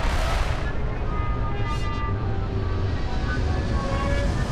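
Retro thrusters fire on a spacecraft in Starfield, a steady, loud, dense roar that holds unbroken throughout with a faint tonal whine sweeping through it.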